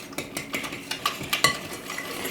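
Three room-temperature eggs whisked in a bowl, the whisk tapping and clicking against the sides in a quick, regular rhythm of about a dozen strokes, close and moderately loud.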